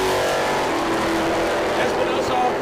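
A Dodge Charger and a Hellcat Charger launching off the line at a drag race, a loud sustained engine roar at full throttle, close and dense throughout, with a commentator talking over it.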